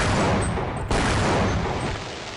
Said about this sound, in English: You can actually blow up the landmines by shooting them